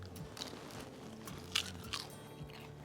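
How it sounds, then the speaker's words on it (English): Someone bites into crispy skin on smoked spatchcock turkey from a pellet grill, giving a few sharp crunches close to the mic, then quieter chewing with no talking. "I'm gonna go get a little crunch of the skin."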